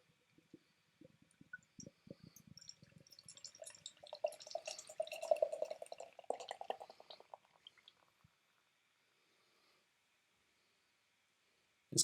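Donzoko Weisse beer poured into a glass, a close, quiet run of splashing, fizzing liquid that builds and then fades to silence.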